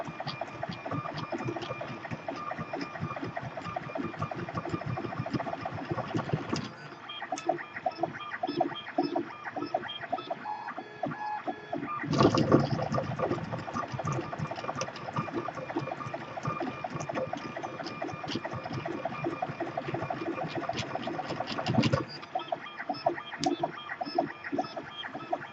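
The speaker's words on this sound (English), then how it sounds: "my printer's really, really loud" A high-speed 3D printer prints an ABS calibration cube with a loud, continuous mechanical whirr and rattle, its steady clatter broken by sharp shifts in intensity as the motion changes.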